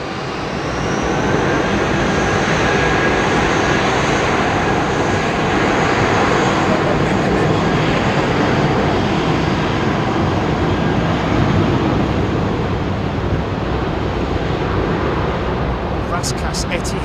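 Jet airliners at London Heathrow Airport produce a continuous loud roar of engines that holds steady throughout without breaks.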